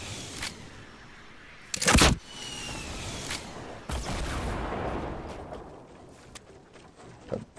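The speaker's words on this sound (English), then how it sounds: "The fuck, why did that tree blow up?" A tree blows up in Fortnite with a sharp, loud burst, surrounded by scattered game impacts and pops and a rumbling stretch afterward.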